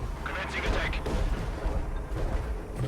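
A 105mm off-map artillery barrage pounds the battlefield in a Company of Heroes 2 2v2 match, a dense, continuous rumble of booms and blasts running the whole time beneath a talking voice.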